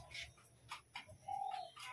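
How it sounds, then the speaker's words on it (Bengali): A black mushki female pigeon coos in a few soft, separate calls, then holds a longer, steadier coo close by, with light background noise. "এই যে কালো মুশকি মাদি, আপনারা একটু দেখুন কালো মুশকি মাদি পায়রাটা।"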